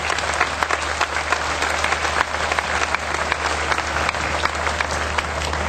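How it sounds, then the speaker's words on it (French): Loud, sustained audience applause for a contributor at a local dance show, with thick, even clapping filling the hall throughout, the crowd faintly audible underneath. "Je vous demanderai d'applaudir ce monsieur qui est un grand"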